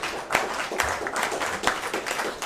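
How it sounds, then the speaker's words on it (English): An audience applauds at a mayoral candidates' forum, a fairly faint patter of clapping with a few sharper claps standing out, lasting a couple of seconds. "let's give a round of applause to the audience"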